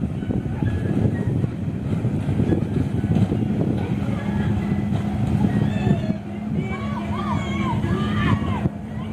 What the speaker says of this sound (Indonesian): permainan naik speedboat teman-teman